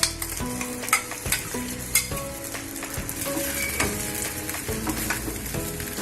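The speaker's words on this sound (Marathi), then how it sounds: "आता आपण त्या तुपामध्ये हे आल्याचं मिश्रण घालूया।" Ginger paste fries in ghee in a pan, a continuous busy sizzle layered with scraping and clinks of a spoon stirring against the metal, fairly close and without speech.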